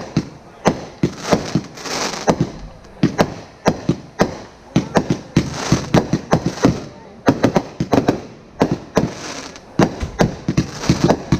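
Fireworks at a 2019 backyard fireworks show burst in rapid, irregular succession, with loud sharp cracks and thuds crowding together and echoing.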